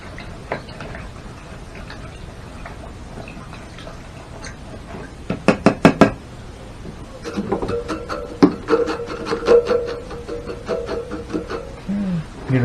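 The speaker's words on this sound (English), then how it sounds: "let's wash out our brush" An oil paint brush is washed out and beaten dry against wood: rapid, sharp wooden knocks in a short burst, then a longer run of rhythmic rattling taps, close and fairly loud.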